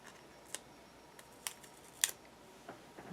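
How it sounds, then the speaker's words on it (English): Scissors snip through a small piece of paper in a quiet crafting session, giving a few sharp, separate clicks spaced about half a second apart. "And cut this piece off of it."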